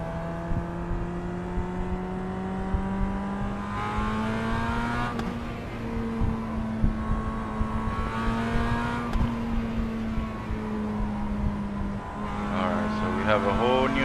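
Mazda MX-5 race car engine in the iRacing sim, revving in sustained tones that climb and drop with gear changes, a brief tire squeal near the end, with a person talking over it.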